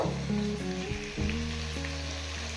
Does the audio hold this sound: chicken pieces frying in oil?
yes